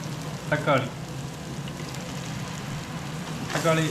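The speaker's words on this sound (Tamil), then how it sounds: "பேஸ்ட்டு போட்டு ஒரு நிமிஷம் வதக்குறோம்" Ginger garlic paste sautéing in a pan for chicken biryani, a continuous soft sizzle with short bursts of speech over it near the start and end.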